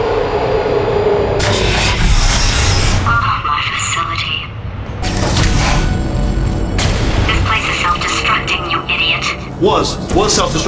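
Deep facility tremor rumbling through the Portal 2 game world, a loud low-frequency roar with booming bursts and clattering debris, continuous for about ten seconds with brief lulls, mixed with game voices and electronic tones.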